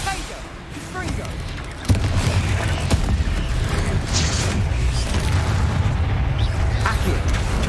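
Confringo spell explosions in a wizard video game, with deep booms and blasts rolling over a continuous rumbling din, loud and close, while a voice speaks over them.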